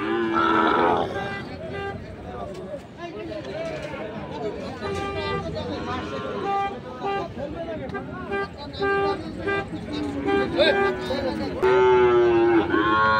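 Cattle, including Sahiwal bulls and calves, mooing and lowing at a cattle market in Dinajpur, with several overlapping calls, some close and loud, over constant chatter and background voices.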